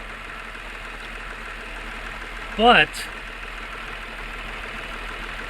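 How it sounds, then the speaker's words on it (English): A Nissan Maxima idles with its main radiator cooling fan running, giving a steady close whooshing hum throughout, with a single brief spoken word partway through. "after 15 minutes of waiting time with the engine idling, the fans did kick in."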